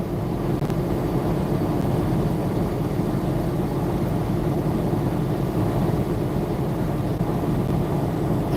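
A heavy truck engine idling, a dense, even low rumble that holds steady and close with no talking over it.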